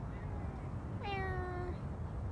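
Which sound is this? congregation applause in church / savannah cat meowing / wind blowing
savannah cat meowing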